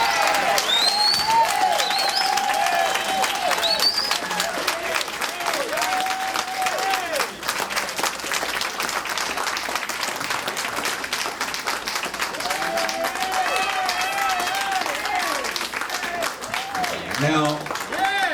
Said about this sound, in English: Let's have a nice round of applause for my personal